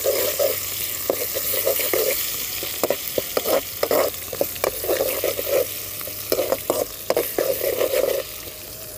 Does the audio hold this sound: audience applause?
no